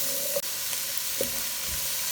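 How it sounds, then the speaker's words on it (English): Carrots sauté in a pan with a steady, loud frying sizzle throughout, broken by a couple of faint scraping stirs. "So we're going to give that a little saute."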